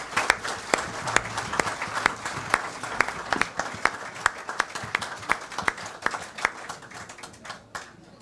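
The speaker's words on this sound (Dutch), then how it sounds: "Ik eerst even uw aandacht en daarna heel veel applaus voor Long Long Chung." A talk show studio audience bursts into loud, sustained applause, dense overlapping claps with sharp individual hits running steadily throughout before thinning slightly at the end.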